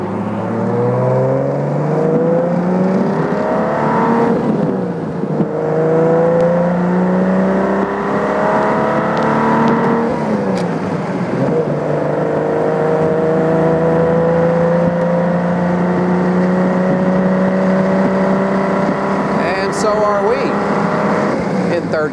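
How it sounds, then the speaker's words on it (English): A 1972 Triumph TR6 with overdrive, cruising near 65 mph, accelerates hard through the gears; its engine note climbs repeatedly in steady rising sweeps, loud and close from inside the car, then settles lower as revs drop. "Now, I'm going to hit overdrive and watch the drop in the revs."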